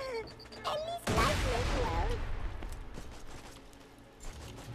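Grenade blasts in the shooter game Borderlands 2: one loud, rumbling burst of explosions hits, then trails off into a long, noisy tail while a voice speaks over the action.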